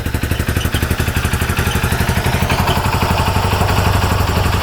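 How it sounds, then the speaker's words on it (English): Up close, a troubled $3,000 UTV engine idles with a rapid, regular clattering beat that grows slightly louder and denser toward the end, with no talk. "Yeah, idling pretty good."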